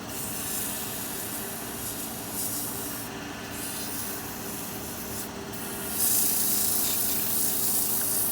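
Soft hissing puffs of air blown across sandpaper to clear wet-wood dust during woodturning, over a low steady hum, growing into a stronger whoosh near the end.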